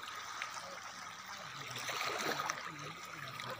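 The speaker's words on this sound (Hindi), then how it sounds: "ये बहुत पानी चल रहा है, तेज़ चल रहा है।" Fast-flowing floodwater rushing across a road makes a continuous, dense roar of churning water that swells slightly midway, with no voices over it.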